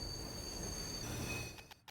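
A train in Little Witch in the Woods grinds to a halt, a sustained high squeal of wheels fading out, followed by two or three heavy clunks as the carriages settle.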